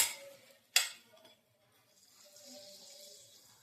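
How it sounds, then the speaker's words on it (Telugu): Tamarind juice is poured into an okra and prawn curry, with a sharp clink at the start, then a soft, wet pouring and trickling of liquid building gently toward the end, close and fairly quiet. "బెండకాయలు వేస్తున్నా ఇప్పుడు పులుసు పోసుకుందామండి చింతపండు పులుసు"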